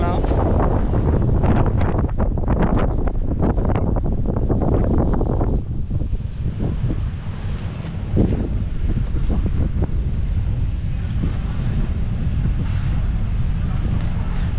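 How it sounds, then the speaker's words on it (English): Wind buffeting a microphone at the Kari Motor Speedway racetrack in Coimbatore, loud rumbling gusts that are strongest early on, then ease into a softer, steady rush. "It has been windy since morning"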